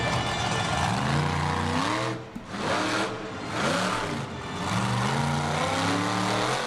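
Monster Jam truck Cletus at a stadium freestyle event in Anaheim, engine revving loudly with rising and falling pitch as it drives over cars, brief dips between throttle bursts amid crowd-filled ambience.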